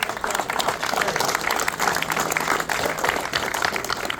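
Audience applause at a New Jersey Vietnam Veterans Memorial grand reopening and remembrance ceremony: dense, steady clapping from a crowd, fairly loud and continuous throughout.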